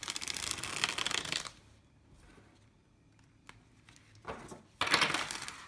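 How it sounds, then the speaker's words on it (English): A laminated Naked Heart Tarot deck, second edition, is shuffled in two close riffling bursts separated by a quiet gap with faint handling clicks, crisp and papery with no voices. "I actually find them quite smooth to shuffle"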